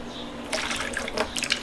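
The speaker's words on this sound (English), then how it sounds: "it will come with an extra drain tube here if you want to just set your bucket on the ground, and you can just drain it like that" Dirty water drains from a VEVOR 6-liter ultrasonic cleaner through its drain tube into a bucket on the ground, a steady faint trickle with splashy, dripping spurts.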